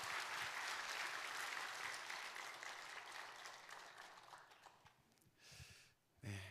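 A church congregation applauds during a Sunday worship service as flowers are presented. The clapping is broad and sustained, then thins and fades toward the end, followed by a brief louder burst.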